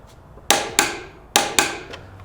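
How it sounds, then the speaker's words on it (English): A torque wrench tightening brake caliper bolts to 29 foot-pounds, heard as four sharp metallic clicks in two quick pairs, loud and close. "make sure they're both torqued"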